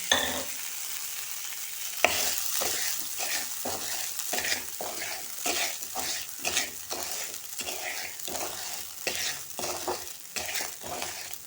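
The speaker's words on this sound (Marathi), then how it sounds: "तर ह्यामध्ये मी हे खडे मीठ भाजून घेणार आहे" Rock salt being dry-roasted in a pan for chilli pickle rattles and scrapes under repeated stirring strokes, a dense gritty clatter up close that keeps a steady rhythm with no voices.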